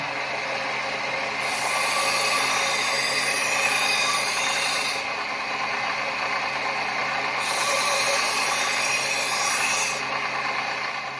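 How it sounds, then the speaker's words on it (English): A belt grinder running in reverse at low speed with a 220 grit belt sharpens a 300-layer Damascus hunting knife, giving a steady mechanical hum with two long, loud abrasive rasping passes of the blade against the belt. "I got my grinder in reverse mode, low speed, 220 grit belt."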